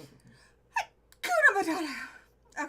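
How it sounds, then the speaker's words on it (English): A single person's sneeze, with a short sharp intake of breath first and then a loud burst that trails off, followed by a brief breathy sound. "I'm going to sneeze."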